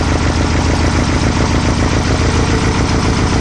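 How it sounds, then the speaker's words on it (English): A Volkswagen Type 3 engine with dual carburetors and newly installed throttle linkage idles close by. It gives a loud, steady, even rumble with a fine regular pulse and no other sounds. "I don't know if you can hear it, but the idle speed came up just a hair."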